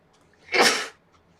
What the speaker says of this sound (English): I'm gonna sneeze, excuse me